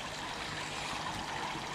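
A small waterfall feeding a koi pond trickles and splashes steadily at low volume, a soft continuous wash of water with no other sounds.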